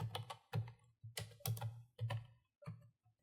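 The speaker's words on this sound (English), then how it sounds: "with the keyboard up, you have to type" Keys tapping on a computer keyboard during setup of an Ubuntu 24.04 virtual machine in VMware, in short uneven bursts of clicks, close and fairly quiet, with no talk.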